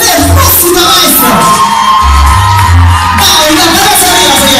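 A large audience at a live show shouts, whoops and cheers loudly and continuously, with a dense crowd roar and individual voices bellowing over it.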